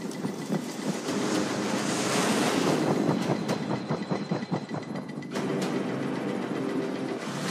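Military amphibious assault vehicles plunge into ocean water, a loud continuous rush of churning surf and engine roar with rhythmic pulsing, briefly dropping in intensity before resuming.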